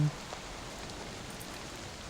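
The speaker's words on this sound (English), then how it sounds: "So it's still pouring down with rain." Steady ambient rain pours down as a constant wash of even noise that fills the whole clip. Used as a background effect in a tabletop role-playing game session. No talk over it.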